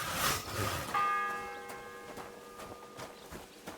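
A church bell in the medieval game Kingdom Come: Deliverance 2 strikes once with a bright metallic clang and then rings on in a long fading hum, over faint ambient background.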